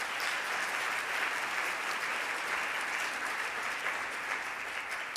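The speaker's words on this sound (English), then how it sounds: "Another round of applause for Mayor Andrew, please." Dense applause from a luncheon crowd at an annual meeting, honouring a mayor, sustained and even throughout at moderate volume with no speech on top.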